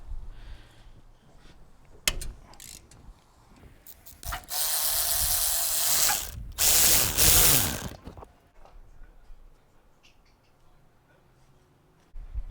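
A ratchet on extensions cranks loose a motor mount bolt on a Toyota Camry, giving close clicking bursts with louder sustained mechanical noise in the middle, then quieter clicks.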